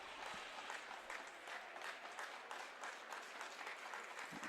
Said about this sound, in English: trying to get the clap going again